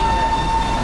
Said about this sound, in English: This train came from Delhi, all the way across northern India to Bengal.